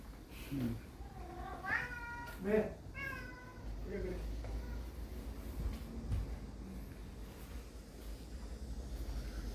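A big domestic cat indoors lets out a run of about five clear, fairly close meows in the first few seconds. A quiet room with a low rumble follows.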